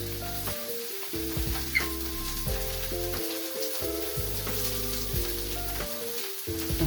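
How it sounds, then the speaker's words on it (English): Lunch frying in a pan crackles and sizzles steadily in the background, faint and continuous, while musical tones play over it with no talking. "Excuse the sizzling in the background."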